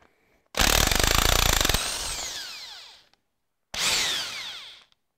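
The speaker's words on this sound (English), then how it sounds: "I'm just going to use my Makita nut gun. It's an 11/16 socket." Makita cordless nut gun with an 11/16 socket spinning off cylinder head nuts on a Ferguson TEA20 tractor: two loud, close whirring bursts, the first about two and a half seconds long with a hammering rattle, the second shorter, then silence.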